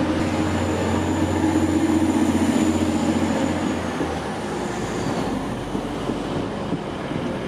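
A Class 185 diesel train rumbles past nearby with a steady low engine drone, then gradually fades as it departs, leaving a softer rolling rail noise.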